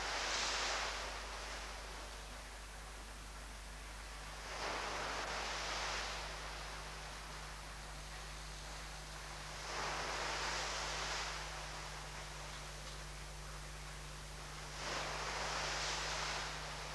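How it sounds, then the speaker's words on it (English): Water surges washing over the crest of a dike in a laboratory wave flume, heard as broad rushing bursts at regular intervals of about five seconds over a steady low mechanical hum, with no talk. "the short time that the wave washes over the crest of the dike"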